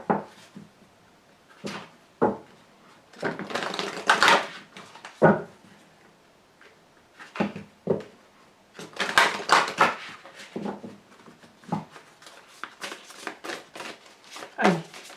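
Tarot-style cards are shuffled and drawn for a reading, with bursts of papery rustling, flicking and soft slaps in irregular clusters, close and fairly clear, separated by short quiet gaps.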